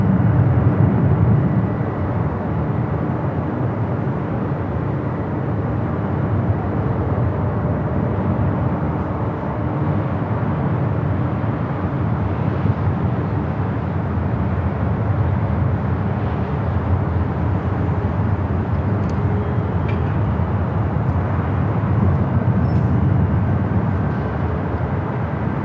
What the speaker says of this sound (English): Cathay heading to Hong Kong, taking off 25 at right.